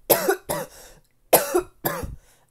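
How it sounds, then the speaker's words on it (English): A person coughs four times in two quick pairs, each a sharp, close, loud burst, with short pauses between them and no other sound around them. "Oh, sorry, I didn't mean to cough on you guys."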